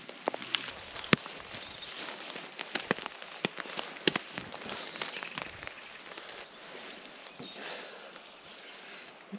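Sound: rain falling on tent at night

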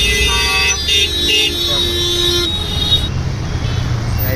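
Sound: road traffic with car horns

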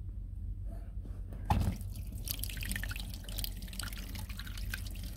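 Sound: water draining from exhaust manifold hose of Malibu Wakesetter boat

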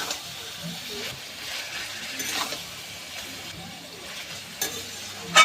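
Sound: ginger garlic paste frying and stirred with spatula

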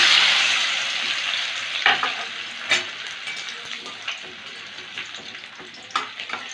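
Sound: chopped ginger frying in hot white oil in wok

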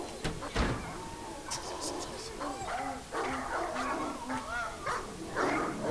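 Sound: dog barking and whimpering in video game Claire

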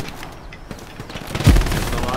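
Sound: machine gun fire in Hell Let Loose video game

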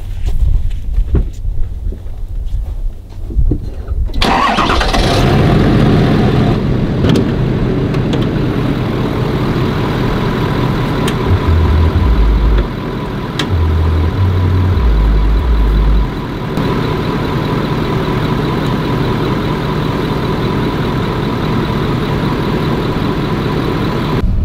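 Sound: Toyota Land Cruiser engine starting and idling

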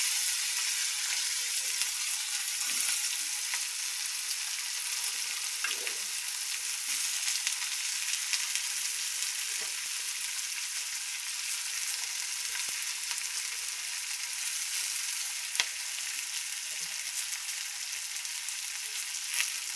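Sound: chopped ivy gourd (tindora) frying in a pan

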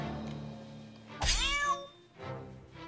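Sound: cat meowing in the video game South Park: The Stick of Truth

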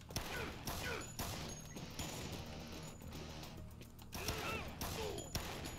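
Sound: gunshots from video game Dead Rising

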